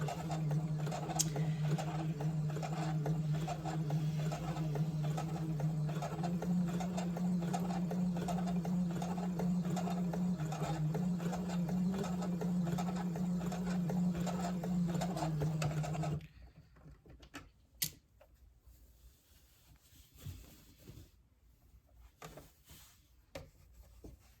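A sewing machine stitches a set-in sleeve, humming steadily for about sixteen seconds before stopping, followed by faint handling noises.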